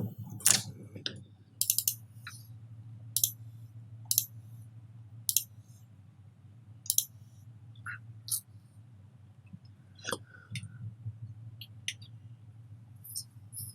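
Mouse button clicks in an Excel session, sharp isolated clicks and a few quick double clicks spaced irregularly through the stretch over a steady low hum, with no talk.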